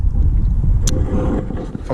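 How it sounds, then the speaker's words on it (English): Gusty wind buffets a microphone outdoors in a vegetable garden planted with potatoes, a steady low rumble that swells and dips throughout with one brief brighter gust midway, no talk. "oh, sorry about the wind"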